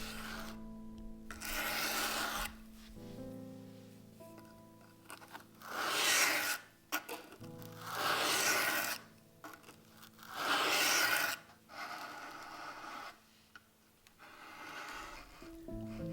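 A carving knife blade drawn across a sharpening stone at a steady angle, giving repeated rasping strokes in several long bursts separated by quiet pauses, close and moderately loud against a faint background hum.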